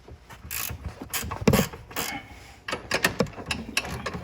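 A ratchet wrench backing off a 14 mm bolt on the front A-arm of a Polaris Sportsman, giving close, quick bursts of clicking pawl with short pauses between strokes and no speech.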